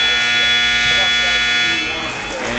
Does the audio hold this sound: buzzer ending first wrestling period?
yes